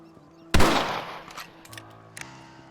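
A single loud rifle shot in the Western video game Red Dead Redemption cracks sharply and rolls off in a fading echo, with a couple of faint clicks and a low hum afterwards.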